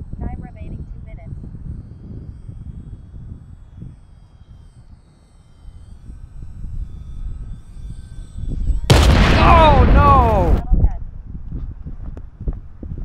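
A small UMX Waco model biplane is flown in wind while a voice talks; its faint motor is far off at first, then swells into a loud, whining close pass for about two seconds before fading.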